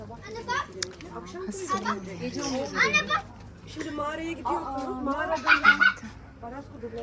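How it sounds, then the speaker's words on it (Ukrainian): Children play noisily, their shouts, chatter and giggles rising and falling continuously at mid distance in a small seaside village, with one adult voice briefly audible among them. "Діти дуже шумні, так?"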